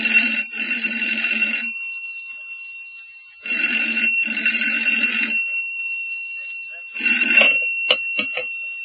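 A telephone rings in a radio drama scene: two long, close, bright double rings separated by pauses, then a third ring cut short by sharp receiver clicks as it is picked up.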